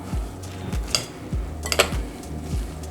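A spoon stirs lime juice and salt in a bowl, making a steady rhythm of soft low knocks about twice a second with light clinks, close and without speech.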